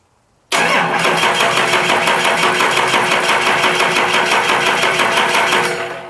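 An old Ford engine cranks over hard with a rapid, rhythmic starter churn while the fuel system is being primed. It starts abruptly, runs loud and steady for several seconds without catching, then tapers off at the end, with no voices.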